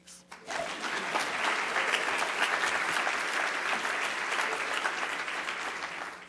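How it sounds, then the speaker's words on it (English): Steady audience applause welcoming actress and activist Holly Robinson Peete to a keynote at a health series event, rising quickly after a brief start and holding dense and even for several seconds. "Applause, please."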